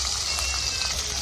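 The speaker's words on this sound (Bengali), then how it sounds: "তেল দিয়ে দেবো। শুকনো লঙ্কা ফোড়ন করবো, তেজপাতা দেবো," Dry red chilies and a bay leaf sizzle in hot oil, a steady, dense crackling hiss held at an even level throughout, close to the pan with no talking.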